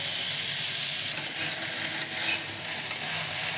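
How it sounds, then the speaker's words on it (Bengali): Cauliflower stems and leaves are stirred in a hot pan, giving an even hissing sizzle with a few soft scraping strokes of the spatula midway through and no speech. "দেখুন, আলগা হাতে নাড়াচাড়া করছি।"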